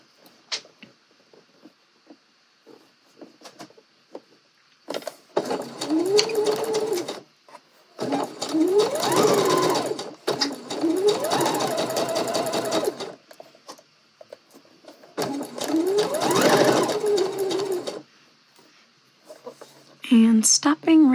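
A sewing machine stitches a dress pocket in four bursts of a few seconds each, separated by quiet gaps with faint clicks and a brief voice.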